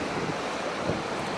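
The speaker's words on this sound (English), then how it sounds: "this island here with the waves pounding on the island" Ocean waves pound an island off the Kangaroo Island coast near a lighthouse, a steady broadband roar of surf mixed with gusty wind noise on the microphone, continuous and fairly loud with no voices.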